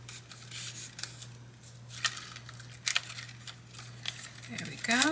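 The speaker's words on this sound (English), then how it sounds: "Then I'm going to remove the tape" Adhesive tape is peeled off a layered paper sunflower pop-up card in a few short, close, crackly rips and rustles, with a voice speaking briefly at the end.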